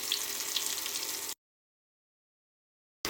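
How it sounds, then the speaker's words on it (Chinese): Sichuan-spicy chicken pieces deep frying in hot oil in a wok: a dense, steady crackling sizzle for just over a second, then sudden silence. "油热之后，放入川辣口味的炸鸡炸至。"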